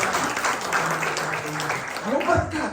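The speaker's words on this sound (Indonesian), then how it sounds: "Kalau berkat itu pasti tepuk tangan, itu pasti rame." Applause from a church congregation during a worship service, a continuous, moderately loud crowd clapping with voices mixed in and a speaking voice rising near the end.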